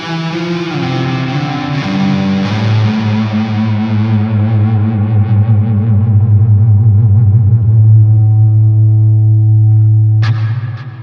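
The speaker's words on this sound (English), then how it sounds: "here is full reverb" An electric guitar plays through an EVH 5150III Hypersonic amp with the reverb turned all the way up. One loud, distorted chord rings out with a long, swelling, washed-out decay, then a sharp new pick attack comes near the end.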